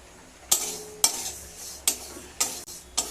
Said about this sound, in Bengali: 50 গ্রাম মুগ ডাল ভেজে নেব